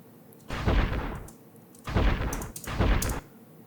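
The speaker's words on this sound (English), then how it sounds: "like a distant explosion modulated low" Three deep, rumbling booms from a distant explosion effect, pitched down low, swell and fade one after another with short gaps between them, each with a heavy low-end roll.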